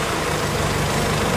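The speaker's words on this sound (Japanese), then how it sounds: "ちょっとエンジンかけてみますね。" A Mercedes GLB200d diesel SUV engine idles with a steady, loud, low rumble that stays even throughout, with no other sounds on top.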